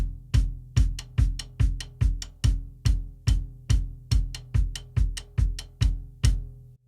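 A drum beat pairs deep bass drum thumps with sharp clicks on the rims of the toms, a steady, evenly spaced pattern of a dozen or so close, punchy hits with no voices.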